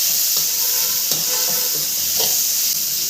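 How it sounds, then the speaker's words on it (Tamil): Leftover chapati pieces sautéing in a pan with chilli powder and garam masala, giving a loud, continuous close hiss and sizzle broken by a few stirring knocks, with no voices. "போட்டு நல்லா வதக்கி விடுங்க."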